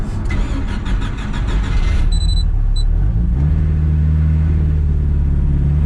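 A loud turbocharged boat engine in an S10 truck with a six-speed churns, then catches and roars, settling into a rising, heavy rumble under boost close by with a brief high beeping early on.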